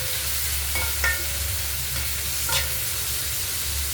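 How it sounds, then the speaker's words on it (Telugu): Green chillies and onion fry in a pan for a fenugreek-leaf tomato curry, a steady close sizzle broken by a few scraping stirs of a spatula, no voices. "పచ్చిమిర్చి, ఆనియన్ ఇది బాగా వేగాలండి."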